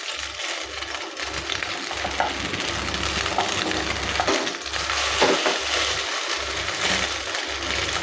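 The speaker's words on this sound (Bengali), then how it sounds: "এইভাবে সব ভাজা হয়ে গেল চাউমিনের" Egg chowmein pakoras fry in hot oil with a steady, close sizzle and crackle, broken by soft, regular low bumps as pieces are turned.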